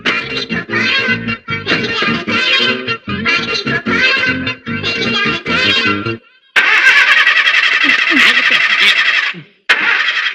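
A car engine cranks and catches in a comedy film scene, a loud rough roar that runs for about three seconds after a stretch of music and voices, then cuts off abruptly.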